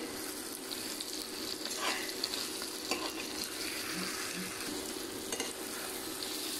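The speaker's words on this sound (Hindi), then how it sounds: "अच्छे से मिक्स करेंगे और लेकिन धीरे धीरे हम मिक्स करेंगे।" Egg masala with garam masala and meat masala is stirred in a pan, giving a continuous close sizzle and frying hiss with faint scraping strokes. No one speaks.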